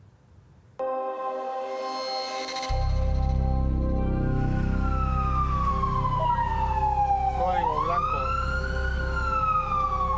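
A Cruz Roja ambulance siren wails loud and close, starting with a steady tone, then sweeping down and back up in pitch over a heavy engine rumble.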